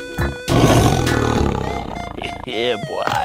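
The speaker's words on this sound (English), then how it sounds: "Tiger." A loud, close tiger roar fills most of the moment over animated background music, trailing off into shorter growling sounds near the end.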